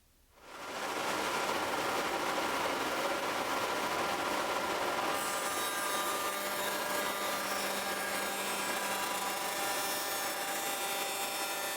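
Shaper or spindle moulder with tenon tooling cutting long wooden tenons, a loud continuous whirring cut that starts after a second and holds steady to the end, no talk.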